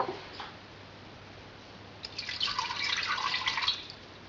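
Water poured into a cooking pot holding meat, a soft splashing trickle building after a quiet start and running for about two seconds, close and moderate in level, with no talk.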